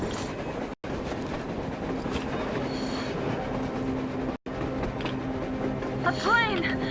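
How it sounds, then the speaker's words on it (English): A train rolling on rails in Metro Exodus, with a steady rumbling, clattering run and a wheel squeal rising near the end, heard alongside game sounds. "A train! A damn train on the surface!"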